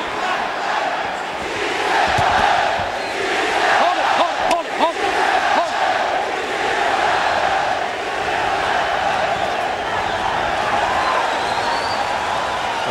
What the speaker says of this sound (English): Crowd certainly seemed happy with the results from round one.